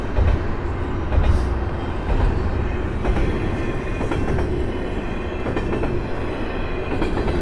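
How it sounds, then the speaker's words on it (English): A freight train passing by a crossing in Regina rumbles steadily nearby, with rhythmic clickety-clack of wheels over rail joints and occasional faint squeals, continuous and fairly loud. "Oh well, let's watch the train go by."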